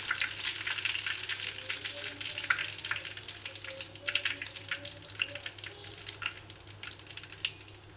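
Paneer chops fry in hot oil with a steady, fairly quiet sizzle. Crackling bursts and spits rise and fall, and light stirring sounds come in now and then.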